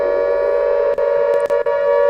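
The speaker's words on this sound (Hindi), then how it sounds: "चंडीगढ़ में हवाई हमले की चेतावनी वाला सायरन बजा है" A steady air raid warning siren sounding in Chandigarh, one sustained tone holding level throughout with a few faint clicks and brief dips over it, no voices.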